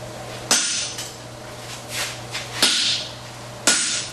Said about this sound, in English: we're going to clean up around the clip with the set hammer